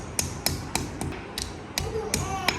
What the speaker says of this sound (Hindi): और हथौड़ी की मदद से ऐसे।